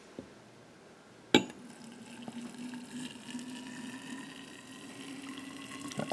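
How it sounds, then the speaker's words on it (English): Hot boiling water is poured into a thermos for cooking, beginning with a sharp clink and then settling into a steady, close trickling flow that runs for several seconds with no talking. "now we're going to get the water poured in"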